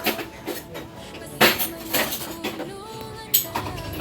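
Plates being set out on a table for lunch, a few sharp ceramic clinks and knocks spaced irregularly, close and fairly loud, under a low background murmur of people talking.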